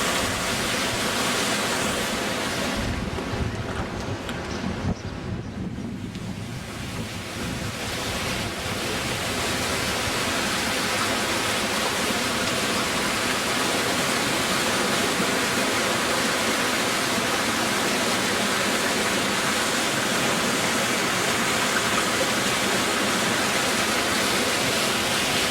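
Floodwater rushes along the swollen Wapsipinicon River near Anamosa during the 2008 flood. It is a loud, unbroken roar of churning water with gusty wind on the microphone, steady throughout and without talk.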